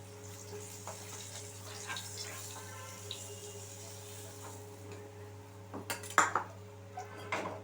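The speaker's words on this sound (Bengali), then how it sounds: "আমি এখানে একটা পাত্রতে মাছগুলো তুলে নিচ্ছি" Quiet kitchen clatter under a steady hum: utensils scrape and clink against dishes as fried rohu fish is moved into a bowl, ending in a few louder knocks near the end.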